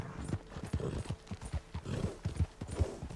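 Horse hooves clip-clop at a steady walking rhythm in Red Dead Redemption 2, close and moderately loud, with occasional snorts and no talking over them.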